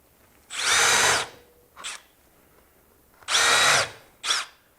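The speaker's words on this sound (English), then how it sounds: "how fast that goes into this Western red cedar" Power drill driving screws into Western red cedar, two long whirring runs each followed by a short burst, loud and close with quiet gaps between.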